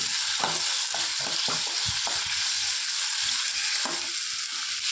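Mustard seeds, curry leaves and asafoetida crackle and sizzle steadily in hot oil for tempering eggplant sambar, with occasional pops and the scrape of stirring close by.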